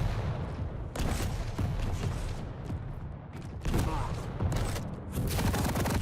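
Rocket launcher blasts in Quake Champions, repeated booming explosions and bursts of weapon fire in a fast competitive match, loud and dense, with commentators talking over the action.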